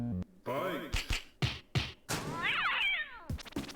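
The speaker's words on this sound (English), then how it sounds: "What's with the cat sounds?" Cartoonish video game cat meows, several short bursts followed by a long rising-and-falling meow, loud and close with thumps between them.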